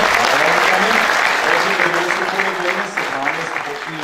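An audience claps for an award recipient at a city day ceremony in Leskovac, a dense sustained round of applause filling the hall, loud and close, with voices faintly mixed in.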